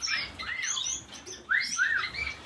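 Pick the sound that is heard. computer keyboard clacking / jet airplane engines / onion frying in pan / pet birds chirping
pet birds chirping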